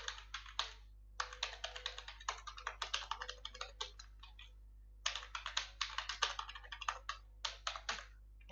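Password being typed on a computer keyboard, a quick run of close, crisp key clicks in bursts with short pauses, heard alone without talk.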